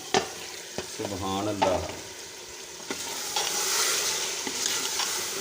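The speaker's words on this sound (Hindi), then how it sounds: "अब इसमें दाल डाल देते हैं।" Lentils hit a pot of hot masala for Kashmiri dal, bringing a sharp sizzle and stirring scrapes that settle into steady frying hiss, with a short spoken phrase partway through.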